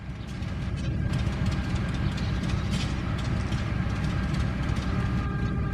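A continuous heavy rumble of a train, dense low-frequency roar with rattling mechanical clatter on top, steady and fairly close throughout.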